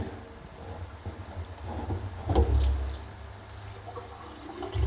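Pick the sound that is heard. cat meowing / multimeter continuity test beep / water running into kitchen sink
water running into kitchen sink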